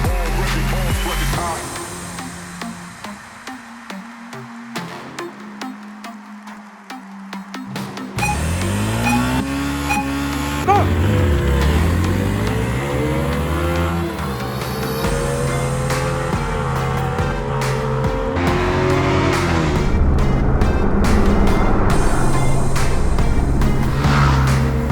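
A Yamaha R15 M and a Pulsar NS200 motorcycle drag race, their engines revving loud and close with rising, sweeping pitch as they accelerate hard and hold high revs.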